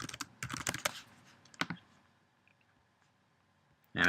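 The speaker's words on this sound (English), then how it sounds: "Watch that down there while I type a response." Quick bursts of typing on a computer keyboard, close and crisp, in two clusters of rapid keystrokes followed by a quiet pause before a final loud clatter.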